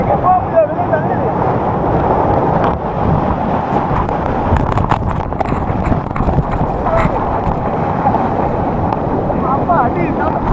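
Forceful water rushes at the Serendah waterfall in a loud, continuous broadband roar with wind buffeting the microphone, steady throughout with faint voices mixed in.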